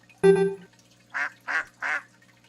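A pet duck indoors gives three distinct quacks in a steady rhythm, close and fairly loud, following a brief harmonic squeak or voice-like sound at the start.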